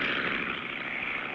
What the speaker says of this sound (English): I hear an airplane.